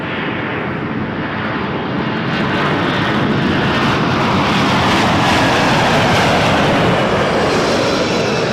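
A jet airliner rolls and climbs out on takeoff at Toronto Pearson Airport, a loud sustained engine roar that swells and stays heavy throughout, with no talk over it.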